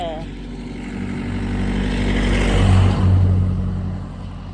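A car passes close by on a village road in Uttarakhand, its engine noise swelling steadily to a peak near the middle and then easing off, with voices talking over it.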